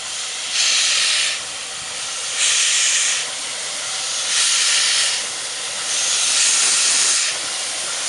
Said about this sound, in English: Whilst the kettle is still boiling,